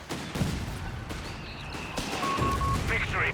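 Gunfire and explosive battle effects from German artillery in Company of Heroes 3, a dense run of shots and blasts under steady commentary.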